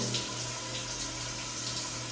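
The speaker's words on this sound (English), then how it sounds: "I let the water run through it" Tap water runs steadily through hair being rinsed one side at a time during a curly-hair care routine, a continuous close, even splashing hiss with no talking.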